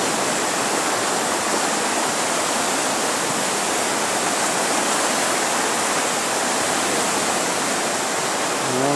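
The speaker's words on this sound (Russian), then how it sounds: "Вон она там бурлит," The Razdolnaya river near Pokrovka, swollen in flood, rushes and churns in a steady, dense roar that fills the whole stretch with no break, loud and close, with no voices.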